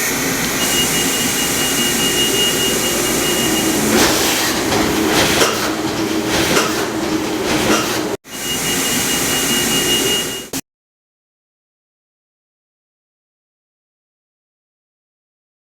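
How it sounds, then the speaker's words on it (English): A Standcap industrial machine starts and runs in auto mode, a loud steady mechanical roar with rhythmic clattering, cutting briefly near the end before resuming and then stopping abruptly. "We didn't get any errors, so we should be able to start the machine."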